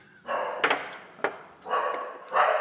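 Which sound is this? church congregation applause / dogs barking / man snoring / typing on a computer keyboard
dogs barking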